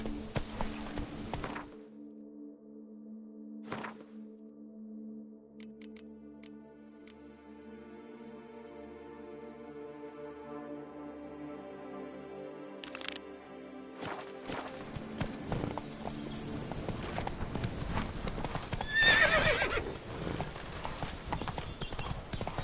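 Hooves of the horse Roach clip-clop at a steady walking-to-trotting rhythm in The Witcher video game, running continuously for the whole stretch with low game music tones underneath and a louder burst of hoof and tack noise near the end.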